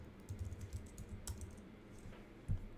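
Keys clattering on a computer keyboard during a Swift coding session, a quiet burst of irregular taps with one firmer keystroke near the end, no voices.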